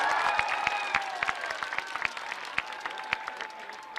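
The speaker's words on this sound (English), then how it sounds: "I want to say a big round of applause and thank you to our city staff" Crowd applause for city staff at an outdoor Seahawks rally in Federal Way, 2015: steady, dense clapping from a sizable gathering, with a few sharper nearby claps and faint whistles or cheers mixed in throughout.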